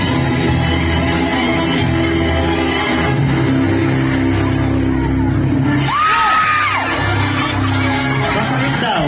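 Crowd at a Philippine barangay fiesta acrobat show shouting, whooping and cheering loudly, with a burst of applause and yells rising toward the end over steady background noise.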